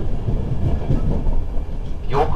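Interior of a Virgin Trains Class 91-hauled passenger train departing Doncaster for Edinburgh, with a steady low rumble of running wheels and carriage noise throughout and a brief higher squeal or tone near the end.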